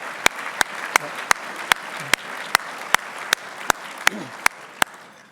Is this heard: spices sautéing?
no